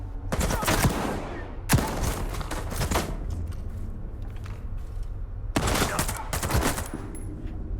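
Hunting shotgun fired in the video game Stalker 2: three loud, sharp blasts spaced a few seconds apart, each with a long booming tail, over a steady rumbling game ambience.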